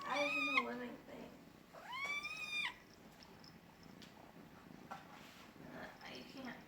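A cat gives two drawn-out rising meows close by, followed by softer rumbling and faint shorter cries amid quiet room noise.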